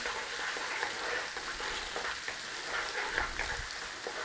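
Mushrooms fry in butter in a hot pan, giving a steady close sizzle with soft scraping and clacks as they are stirred around, and no voices.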